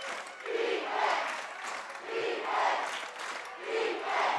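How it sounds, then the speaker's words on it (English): A home crowd at a high school football game between Farmersville and Mendota swells on a big fourth down, rising and falling in roaring waves from the stands, loud and sustained. "Crowd coming alive."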